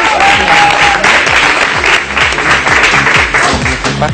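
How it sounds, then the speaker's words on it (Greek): Steady, loud applause from a television studio audience at a Cypriot dance competition, continuous dense clapping with a faint voice briefly over it early on. "Νομίζω ότι τους αξίζει να σταθούμε όρθιοι να τους χειροκροτήσουμε."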